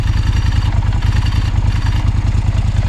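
A motorcycle fitted with a dry clutch runs loud and close, its engine chugging and rattling in a steady, fast rhythm with a continuous mechanical clatter and no talking.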